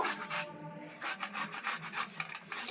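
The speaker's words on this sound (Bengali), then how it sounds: "টমেটো দুটো ঘষে নেব" Tomatoes are grated by hand in a home kitchen, a quick series of rasping strokes with short pauses, fairly close and clear with no talking.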